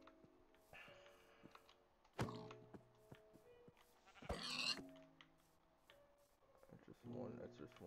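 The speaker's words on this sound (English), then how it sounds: "I heard a sheep." A few short Minecraft sheep bleats rise over clicks and thunks from the game, with faint ambient noise in between.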